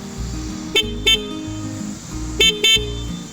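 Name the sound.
scooter horn honking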